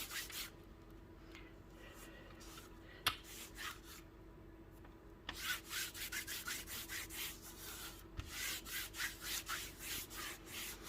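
Wax is rubbed by hand over a gouache painting on canvas as a second coat, giving soft, close scrubbing strokes that turn into a faster, louder rhythmic back-and-forth partway through.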